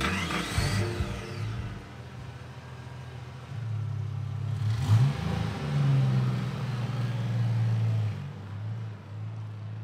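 Car engine revving for a Prime 22 car advertisement, a deep rumbling roar that swells and surges in repeated revs with a brief whoosh near the start, loud and close throughout.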